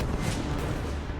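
Cannon artillery fire in a dramatized Battle of Marengo scene, a dense, continuous low rumble of booming guns, loud and sustained with no clear individual shots.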